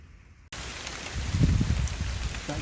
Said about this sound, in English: It's raining. It's good.